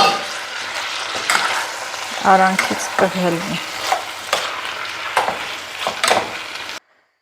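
Beans frying in a pan and stirred with a utensil, a steady close sizzle broken by repeated scraping and clattering strokes against the pan, with a brief faint voice.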